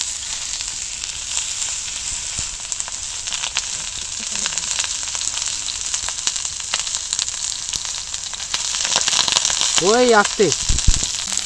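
Brinjal and tomato sizzle in oil on a hot tawa, a steady close crackle that grows louder toward the end, with someone talking briefly over it.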